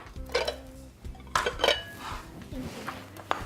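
Ceramic bowls clink and knock against one another and a hard counter as they are fetched in a home kitchen while summer food is served, several close irregular clatters with quiet pauses between.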